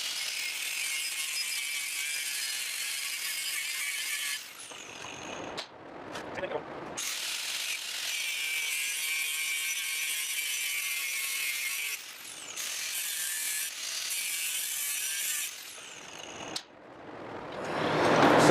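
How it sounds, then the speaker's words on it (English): Cut-off wheel grinding partway through a metal motor mount for a Honda Odyssey FL250, a loud, high-pitched screech in several long bursts separated by brief pauses and spin-downs, close to the listener. "I'm going to go ahead and cut it with the death wheel, but not go all the way"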